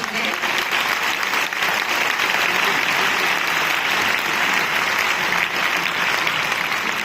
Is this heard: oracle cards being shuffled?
no